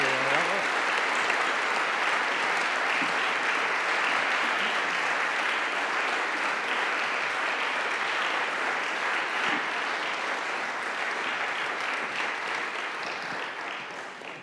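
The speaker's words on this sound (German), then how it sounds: "Vielleicht nochmal einen großen Applaus für die Preisträgerin" Broad, steady applause from an audience honoring award winners at the Dr. Hans Riegel prize ceremony, a thick continuous roar of clapping that holds level and fades slightly toward the end.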